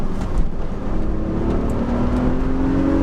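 BMW Z4 accelerating hard through the gears, a loud, steady engine drone with rising tone heard from inside the car.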